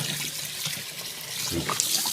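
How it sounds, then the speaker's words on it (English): Bath water drains from a tub used to wash a Yorkie, a close, steady watery rush with small splashes and gurgles, no talking over it. "I opened up the bottom. Start to drain it out a little bit."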